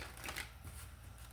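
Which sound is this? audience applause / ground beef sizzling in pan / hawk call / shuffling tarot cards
shuffling tarot cards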